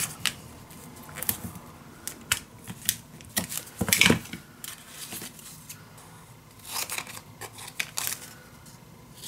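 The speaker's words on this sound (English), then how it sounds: "then cut the corners." Scissors snip paper corners for a handmade dog-themed mini album, giving a series of close, sharp cuts and rustles, with a louder crunch of paper partway through.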